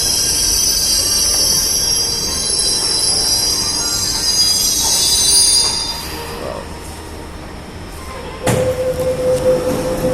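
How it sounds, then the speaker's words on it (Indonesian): A Jakarta MRT train rolls into Lebak Bulus station with high, sustained wheel squeal that fades as it slows, then a sharp clunk and a steady tone as it stops. "Kereta tiba, dia masih menggunakan masinis ya"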